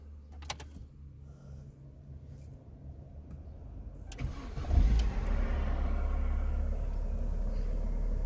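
A Mini One car engine cranks and catches midway, then settles into a steady, close idle after a quieter stretch with a few clicks.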